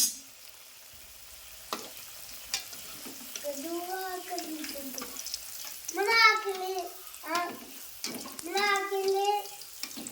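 Karigadabu dumplings fry in hot oil with a soft, continuous sizzle that runs quietly beneath a voice talking throughout.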